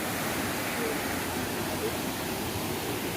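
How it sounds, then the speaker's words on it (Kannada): Tule Falls waterfall roars as a steady, dense wash of falling water, loud and unbroken throughout. "ತುಲೆ ಫಾಲ್ಸ್"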